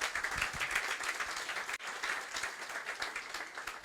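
A church congregation applauds during a sermon, a dense, steady wash of many hands clapping together, loud and sustained throughout with a brief dip midway.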